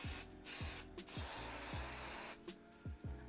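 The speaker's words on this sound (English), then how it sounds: "And I'm gonna take my hairspray." Several short hissing bursts of aerosol hairspray sprayed onto curled hair, close by, separated by brief pauses, with faint rustling and low background hum underneath.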